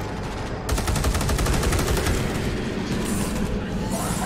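Heavy automatic gunfire rips through Space Hulk, a dense rapid burst of shots with strong recoil thump that starts abruptly and holds loud and steady for several seconds, close up, with a voice briefly reacting over it.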